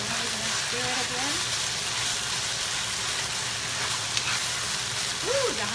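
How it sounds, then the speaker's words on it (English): Pansit stirred with fish sauce in a sizzling pan gives a steady, even frying hiss throughout, with a few brief tonal sounds near the start and end. "And then we're gonna stir it again."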